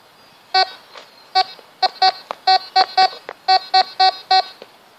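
A Tesoro Compadre metal detector sounding over a large gold chain: a string of about a dozen crisp, clear electronic beeps in an uneven rhythm, close and loud against a quiet background.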